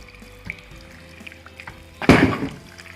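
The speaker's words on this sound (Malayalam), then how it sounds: "ഇനി ഇതിലേക്ക് കൂന്തൽ വേകാനുള്ള വെള്ളം മാത്രം കുറച്ച് ഒഴിച്ചു കൊടുക്കാം." Water is poured into a pan of Kerala-style squid masala as it cooks, making a short, loud splashing burst near the end that follows quiet kitchen sounds.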